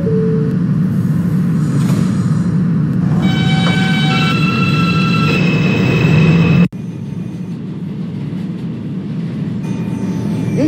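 A simulated R160 subway train runs on a Queensbound F local line, giving a loud steady rumble with whining motor tones that rise, then a brief cut before the rumble resumes.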